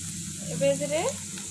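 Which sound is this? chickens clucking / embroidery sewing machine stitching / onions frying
onions frying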